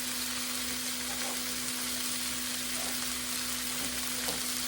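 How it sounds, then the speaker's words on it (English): Chicken and vegetables sear in a hot skillet for a stir-fry, giving a steady, soft frying sizzle that runs without a break and carries no speech. "I'm letting them sit there on that skillet bottom and get a kind of a sear on them"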